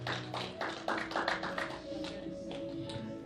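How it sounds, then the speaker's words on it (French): A church congregation claps hands together in a short, faint burst of irregular clapping with some voices underneath, lasting a few seconds. "Donne une bonne main d'acclamation au Seigneur."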